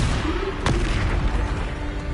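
A Depulso spell fired in the video game Hogwarts Legacy, a single sharp blast-like burst over continuous rumbling combat noise, with no talking.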